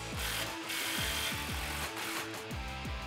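Ratcheting tool tightening an exhaust clamp on a 2009-2021 Toyota Tundra 5.7L fitted with a Flowmaster FlowFX dual exhaust, giving a steady run of repeated mechanical clicks and buzzing strokes, close and fairly loud with no talk.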